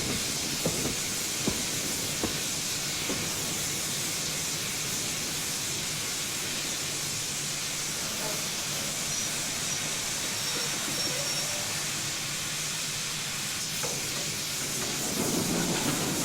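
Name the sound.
train braking to a stop with steam hiss, Train Simulator 2016 video game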